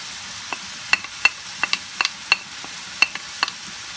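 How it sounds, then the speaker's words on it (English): Thai kra-phow beef with basil and lemongrass is stirred in a pan. A utensil scrapes and clicks at an irregular pace, with a soft sizzle underneath. "Now you just stir it."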